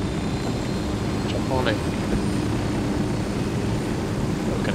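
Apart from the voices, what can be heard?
helicopter from the video game Ghost Recon Wildlands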